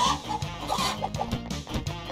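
Chickens clucking in the party video game Party Panic, a string of short repeated clucks over busy game music and effects, fairly loud and continuous.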